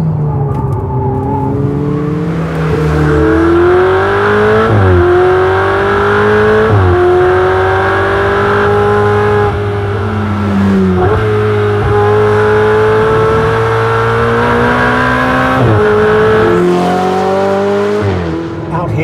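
A 2016 Ferrari 488 GTB engine climbs loudly through the revs, surging, briefly dropping at each gear change and rising again over a sustained drive, close and powerful.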